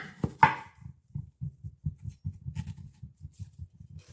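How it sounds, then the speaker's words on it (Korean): A knife slices an onion on a cutting board with a quick, regular run of soft, low thuds after two sharper opening cuts, close and clear in a quiet room. "양파를 썰어 보겠습니다."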